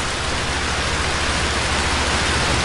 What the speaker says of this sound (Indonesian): karena curah hujan juga semakin lebat, tidak berkurang